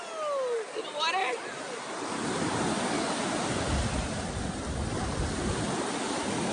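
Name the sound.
ocean waves at the beach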